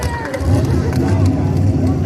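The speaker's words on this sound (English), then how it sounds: "They're just all cheering for him" A fair crowd cheers for a 92-year-old man pulling in a truck pull, giving a steady roar of voices and babble over a low engine drone throughout.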